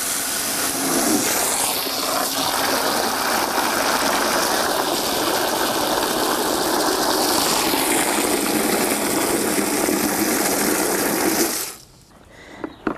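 Hot water gushes steadily from a hose or tap into a bucket at a barn for horse tea, a continuous hissing pour for about eleven seconds that stops abruptly near the end.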